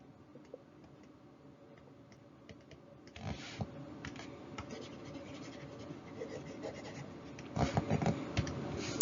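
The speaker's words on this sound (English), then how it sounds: "and then I'm going to erase that one down low." Erasing writing on a board during a maths lesson, with quiet scratching strokes that grow into steady rubbing and end in a louder burst of scrubbing near the close.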